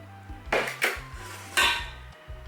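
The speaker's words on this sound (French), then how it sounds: "Là, je vais ajouter un peu des pâtes." Dry pasta tipped into a large bowl of salad, giving three short rattling clatters of hard pieces against the bowl, close and fairly quiet, with no talking.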